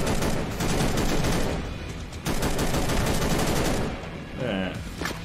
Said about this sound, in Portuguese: O som eu achei muito bruto, prefiro o som da AK atual